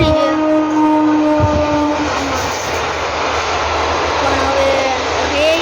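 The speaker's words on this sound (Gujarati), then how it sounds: "ટ્રેન વહી ગઈ" A train passes beside a farmyard garden with chilli plants, roses and mango trees, a steady loud rumble and rushing noise with tonal whine lines holding throughout, close by and sustained.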